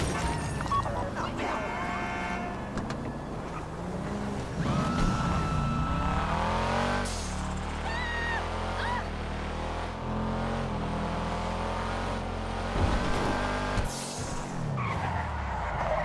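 A car skids and revs through a video game bank heist, tires squealing and engine whining in repeated sweeps, with a crash-like thud near the end over continuous driving noise.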